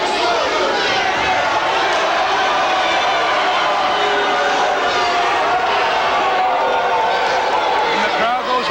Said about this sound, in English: And the crowd goes wild here in Danvers.